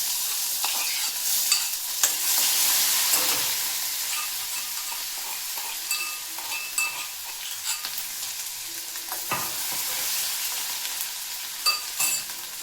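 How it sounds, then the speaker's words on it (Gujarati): Mustard seeds, whole cumin and ginger-chili-garlic paste frying for a Gujarati valor bean curry, a close, steady sizzle with repeated spoon scrapes and stirring clatter, and no voices. "રાઈ એડ કરવાની છે આખું જીરું મીઠ લીંબુ એડ કરી દીધો આદુ મરચાં લસણની પેસ્ટ"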